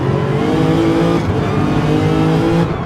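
Race car engine in Gran Turismo 7 on the Nürburgring GP circuit, a loud, steady engine drone with strong harmonic tones holding and shifting slightly as the car takes turn 1, with no talk over it.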